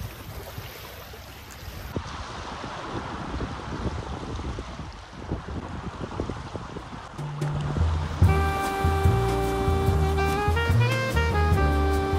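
Waves at a beach wash in a steady broadband rush under gusty wind buffeting the microphone, and a tonal melodic sound joins over the last few seconds, with no talking.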